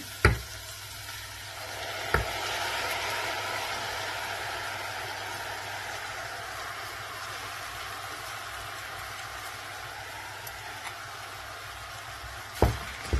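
Washed rice poured into frying vegetables in a pan for stuffed peppers, then stirred, a loud rising sizzle that holds steady for many seconds, bracketed by sharp knocks of the pan and spoon at the start and end.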